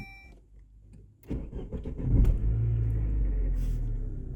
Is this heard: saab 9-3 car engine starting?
yes